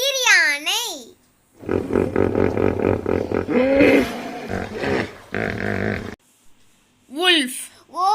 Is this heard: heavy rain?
no